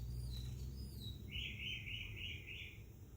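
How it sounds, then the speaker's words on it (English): A bird outdoors gives a quick trill of about five chirping notes, faint and somewhat distant, over a low steady rumble. "I do like the sounds of the birds though"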